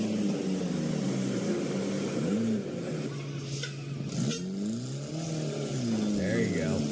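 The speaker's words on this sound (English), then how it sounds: "smoking the tires." Car revving hard while smoking its tires, a loud close engine note that rises and falls in sweeping revs, with bursts of hissing tire noise in the middle and voices underneath.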